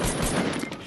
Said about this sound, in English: Somebody's shooting at me from across the way.